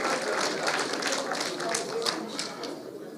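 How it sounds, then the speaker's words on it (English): Audience applause fills a teachers' union provincial general council meeting (SADTU Gauteng), a steady, dense wash of many hands clapping that runs throughout and fades slightly near the end. "A round of applause again."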